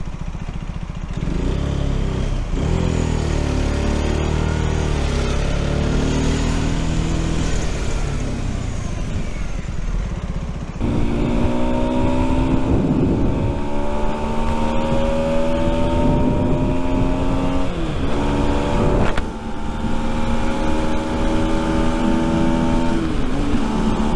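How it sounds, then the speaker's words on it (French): A Rieju Century 125 motorcycle accelerating hard, its engine note climbing through several gears with clear rising sweeps and brief dips at shifts, loud and close throughout. "j'ai l'impression que ça accélère plus fort que le MT"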